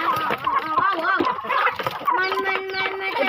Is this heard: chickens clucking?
yes